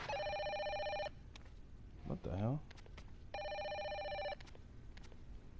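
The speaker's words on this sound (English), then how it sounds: "Okay, I got a phone call." A telephone rings in the Fatal Frame video game, two long loud bursts of electronic bell ringing with a brief pause, and a person speaks between the rings.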